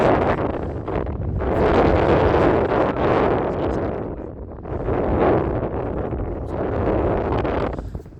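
Strong gusting wind buffets the microphone on a disc golf course in Sarnia Bay, surging and easing in loud rushing waves with no talk.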